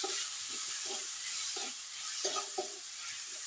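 Green chillies and chopped tomatoes for Kerala rasam sizzle softly in a pan while a spoon stirs them in a few distinct scraping strokes, fairly quiet, with no voices.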